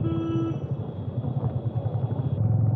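Royal Enfield Classic 350 single-cylinder engine thrumming steadily while riding on a road, a loud continuous low rumble with pulsing exhaust beats and a brief higher tone early on, no talking.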